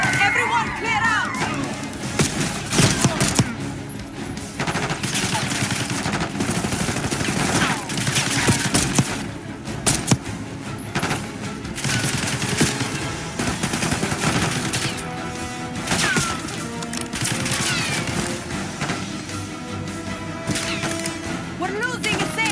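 Dense, sustained gunfire from a Call of Duty Black Ops 6 firefight, with bursts of automatic weapons and scattered shots running continuously at close range, mixed with crowd commotion and voices underneath.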